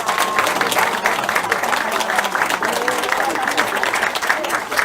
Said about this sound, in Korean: 진심으로 감사한 박수 한번 보내겠습니다